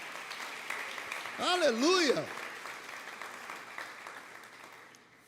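Church congregation clapping for God during an evening service, a loud burst of applause under a voice singing out, fading back to a noisy hall by the end.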